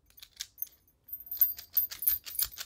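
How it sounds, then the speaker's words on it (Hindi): A key scrapes into a round knob door lock and turns, giving a run of close, metallic jangles and clicks that grows busier after a short pause, with no talk. "ये देखिए ये चाबी मैंने लगाई, ये चाबी से ये लॉक"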